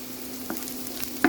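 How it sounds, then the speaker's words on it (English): Chopped onion and garlic fry in a pot for a penne pasta sauce, giving a soft steady sizzle with a few small pops and stirring scrapes, with no voices. "let's fry our onion"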